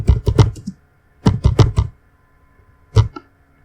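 Fingers type on a computer keyboard in three short bursts of clattering keystrokes, close and crisp, with brief pauses between and a single final key press.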